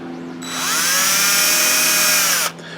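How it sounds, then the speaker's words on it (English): A power drill bores a hole in a full-size flamethrower prop: the motor spins up, whines steadily at high pitch for about two seconds, then cuts off abruptly, close and loud, with no voices. "So I'm going to drill a hole here for that."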